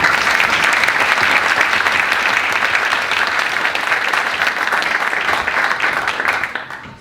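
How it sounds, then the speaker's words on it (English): Warm, dense applause from a university audience at a kickoff event greets a rector, a full steady roar of clapping hands that holds for several seconds before tapering off near the end. "Can I have a warm applause for Rector Magnificus"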